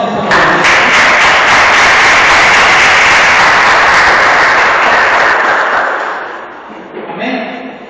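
A church congregation claps their hands in praise at an evening service, a dense, loud, sustained wash of applause lasting several seconds before fading away.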